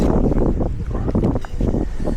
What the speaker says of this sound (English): it's really windy today, eh?